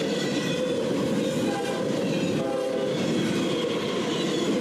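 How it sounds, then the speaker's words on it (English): Two freight trains pass each other on the line, an eastbound empty well-car train and a westbound mixed freight, in a loud, steady rumble of wheels and cars with no voices. "An eastbound empty well train meeting a westbound mixed freight train"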